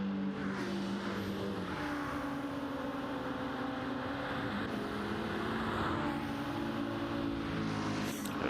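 A race car engine in an endurance racing game at Spa runs at a steady, sustained drone throughout, with no talking over it.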